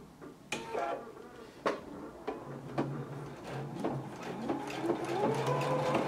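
A Husqvarna Viking Epic 980Q sewing machine runs over layered fabric that bunches as it feeds, giving a close, uneven mechanical hum with intermittent clicks and knocks that build toward a steadier whir.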